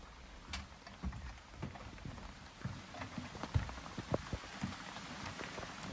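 Rain falls outdoors at a tiny house build site, scattered drops tapping and pattering irregularly on surfaces over a soft background hiss, fairly close and moderately quiet, with no talking.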